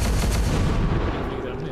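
Gunfire from return fire in the video game XCOM 2: a short, dense burst of loud rapid shots with a rumbling, booming tail, fading slightly at the end.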